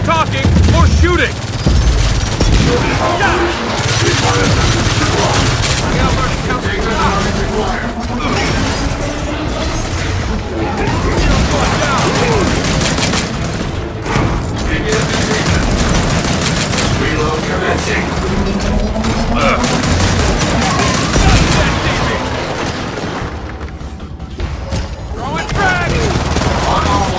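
Dense, loud gunfire from Gears of War 4 combat, with sustained automatic bursts, booms and mechanical clatter running almost continuously, with voices talking over the battle.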